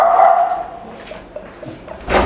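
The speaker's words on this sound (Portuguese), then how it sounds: "É o seu cachorro? Ele não late! Resolveu latir hoje?" A dog gives a short bark near the start and another sharp yip at the end, close by, with quiet pauses between and no talk.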